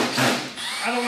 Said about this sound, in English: Run that drill.